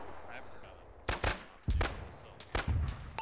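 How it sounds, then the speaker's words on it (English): Sniper gunshots in the ArmA 3 game, a historical campaign battle: four sharp, loud cracks come in two closely spaced pairs, each shot trailing into a long rolling echo, over a quiet background hiss. "Got some sniper taking shots at him."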